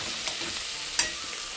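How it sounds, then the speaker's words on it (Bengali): Bitter gourd frying in a pan gives a steady soft sizzle, with two brief stirring scrapes standing out, one early and a sharper one near the end. "দেখো এখানে তিতা করলা ভাজছি, করলা ভাজছি"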